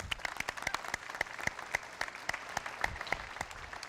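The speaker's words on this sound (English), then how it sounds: "Let's give Justin a round of applause." Applause from the audience at a business pitch competition, made of distinct, crisp individual claps, moderately quiet and slightly sparse, with no talking.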